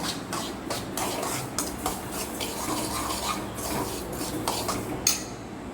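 A spoon stirs white semolina (rava) roasting dry in a pan, giving repeated soft scraping and shuffling strokes against the metal in a steady rhythm, close and fairly quiet.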